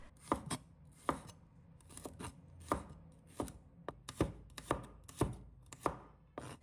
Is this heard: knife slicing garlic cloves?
yes